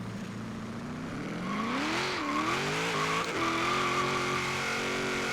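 A 1991 GMC Syclone truck launches hard with first gear feathered, its engine note climbing and wavering in pitch as revs rise and dip, with tire noise under a loud, steady drone throughout.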